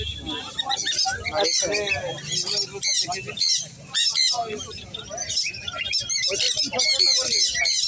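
Cockatiels and other caged birds squawking and chattering at a crowded bird fair, with many overlapping sharp calls close by while people talk over them.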